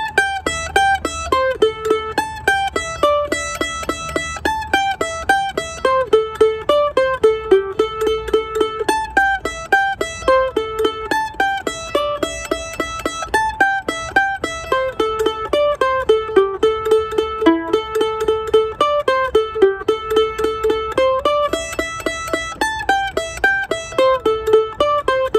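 Mandolin plays a bare-bones eighth-note version of a bluegrass tune, a steady run of evenly picked single notes at moderate volume, played alone and close.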